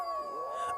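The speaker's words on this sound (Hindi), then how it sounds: "आज ये कुत्ते इतना क्यों भौंक रहे बे?" A dog lets out a single short, wavering howl at night, close and fairly loud, its tone sliding through one brief cry.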